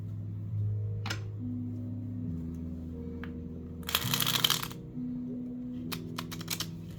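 A quiet room hum with a few scattered clicks, then a brief riffling burst of cards being shuffled, soft and close.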